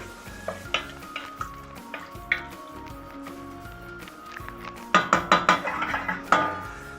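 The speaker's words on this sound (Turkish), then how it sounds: "Şimdi bir karıştıralım güzelce." A spoon stirs tas kebab stew in a pot just after water has been poured in, with soft scraping strokes, gentle sizzling and a quick flurry of metallic clinks against the pot toward the end.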